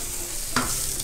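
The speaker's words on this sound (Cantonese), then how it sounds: "好啦，我覺得呢個時候可以擺啲帶子落去" Scallops dropped into hot oil with ginger in a kitchen, a soft close sizzle with a brief clatter as they land, no talk.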